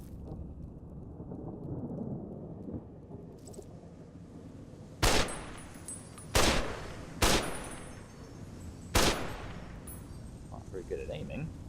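Four loud, separate shots ring out in the Fallout New Vegas wasteland, fired at a giant bug. They are spaced a second or two apart over low rumbling ambience and faint background sound.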